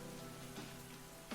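Rain falling in the Intertwine visual novel, a steady faint hiss of drops on a surface, no talk.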